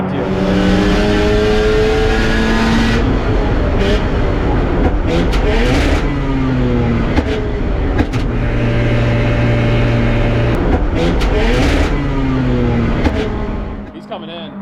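A Mazda RX7 on a race lap, engine revving and accelerating loudly through repeated gear changes, rising and falling in pitch throughout, with a driver's voice occasionally heard beneath it.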